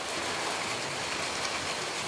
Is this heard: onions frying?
no